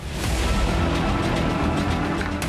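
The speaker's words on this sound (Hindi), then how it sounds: "ड्रोन तेजी से आगे बढ़ा, अपने लक्ष्य तक पहुंचा और पलक झपकते ही वहां जोरदार धमाका सुनाई दिया।" A drone strike explosion sounds as a loud, sustained roar and rumble that fills the whole clip, with no voices.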